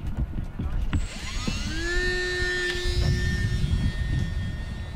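Small electric power pod motor on an E-Flite UMX ASK-21 RC glider spinning up in flight, a thin rising whine that settles into a steady high tone, with outdoor noise and a voice talking underneath.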